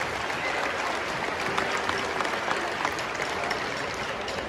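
Audience applause for students at a district band festival, a diffuse, steady wash of clapping from a large crowd heard at a distance, fairly even and moderately faint throughout.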